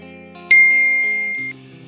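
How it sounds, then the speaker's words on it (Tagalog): A single bright notification bell ding rings out sharply and rings on for about a second before cutting off, loud and clean over a faint tonal background. "pindutin ang notification bell"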